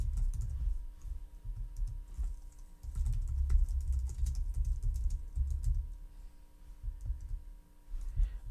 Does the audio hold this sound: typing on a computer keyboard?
yes